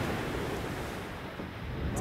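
Wind roars and waves surge around a ship in a storm on the Labrador Sea, a dense continuous wash of noise that stays loud throughout with no clear talk.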